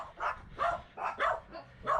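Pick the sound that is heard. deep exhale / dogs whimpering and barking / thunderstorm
dogs whimpering and barking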